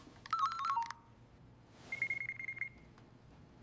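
A telephone being dialed to call someone: a quick run of keypad tones, then a steady electronic ringing tone, heard up close with no talking.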